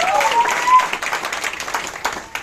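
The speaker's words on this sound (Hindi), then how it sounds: "एक मैं चाहूंगा कि सर के लिए जोरदार ताली हो जाए।" Applause and clapping break out at a group celebration in Faridabad, moderately loud and uneven, mixed with voices and a brief tonal sound near the start.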